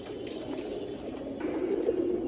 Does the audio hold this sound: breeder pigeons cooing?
yes